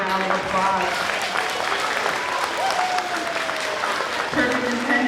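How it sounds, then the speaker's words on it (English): A school assembly crowd claps steadily for perfect-attendance winners, a dense continuous applause filling the whole stretch, with a few faint voices mixed in. "Let's give them a big round of applause."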